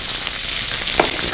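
Onions fry in hot peanut oil in a wok, a loud, continuous close sizzle with a couple of brief spatter pops near the end.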